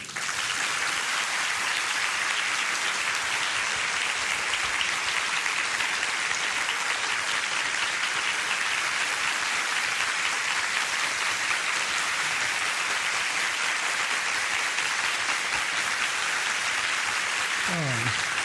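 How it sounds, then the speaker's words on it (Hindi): An audience at a meditation gathering applauds loudly, with sustained, dense clapping that carries on steadily for the whole stretch and fades slightly at the very end. "जोर से ताली बजाओ"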